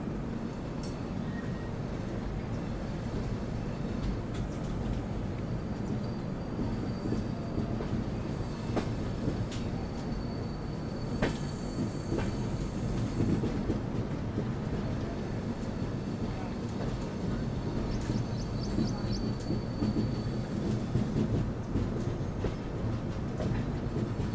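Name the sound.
Kashi Vishwanath Express train running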